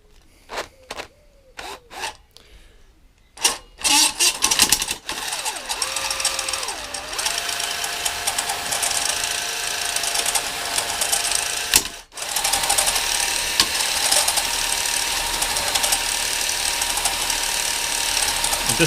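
A cylinder hone driven by a drill turns slowly inside the cylinder of a Hayter lawnmower engine. After a few clicks comes a steady, loud grinding whir that holds with small pitch shifts, dips briefly, then runs on.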